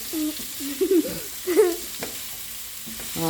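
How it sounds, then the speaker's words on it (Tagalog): Food frying in a pan while being stirred at home, with soft sizzling, a few sharp spatters and the scrape of a utensil, fairly close and without talk. "Tumatalon na yung niluluto mo."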